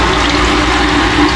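An electric water pump runs steadily while being tested, discharging water downward, giving a continuous broadband rushing and whooshing of flowing water with a low motor hum, loud and close, no voices.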